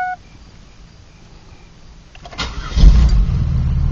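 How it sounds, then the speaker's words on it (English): A 2001 Pontiac Grand Prix GTP engine cranks and turns over after a quiet moment, then settles into a loud, steady idle close by. "I'm starting the car up."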